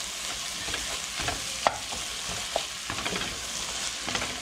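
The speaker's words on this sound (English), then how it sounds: "you really just want to start cooking this until you start smelling garlic" Garlic sizzles in a hot pan while it is stirred and broken up, a soft steady frying hiss with occasional scraping clicks of the utensil, fairly quiet and without any talk.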